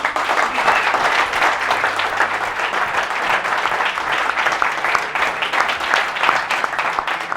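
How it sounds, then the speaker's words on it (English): A trading community event audience breaks into sustained applause, a dense, steady roar of many hands clapping that fills the room for the whole stretch without pause. "Big round of applause for you all."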